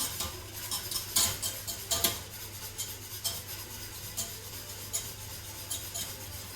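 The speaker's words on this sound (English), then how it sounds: "you want to whisk quite generously" An egg mixture being whisked in a bowl, a quiet, steady scraping with light clinks of the whisk against the sides, close but faint.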